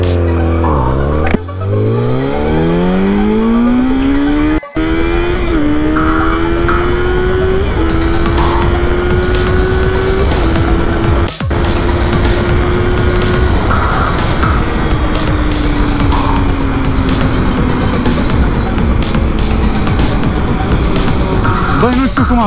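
Yamaha FZ1N motorcycle fitted with a Power Commander launches hard from a standstill and accelerates toward 200 km/h, its engine note climbing steeply through several gear changes and settling into a loud, sustained high-speed howl with heavy wind rush.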